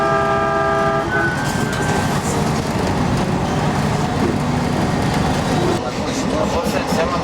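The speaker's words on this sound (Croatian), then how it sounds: "prva vožnja vlakom u životu" A passenger train runs on rails with a loud, steady rumble and clatter and a brief horn-like tone near the start, while faint voices sound under the noise.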